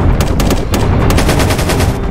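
Rapid automatic gunfire in Minecraft PE during a King Kong versus Mecha Godzilla battle, a loud fast rattle of repeated shots running continuously without talk.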